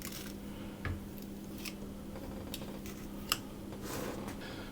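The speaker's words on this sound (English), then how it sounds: "I'm going to cut off the excess around the edge" A knife or scissors trims excess pastry from around the edge of a tart case, giving a few faint, brief cutting snips over a quiet background hum, with no talking.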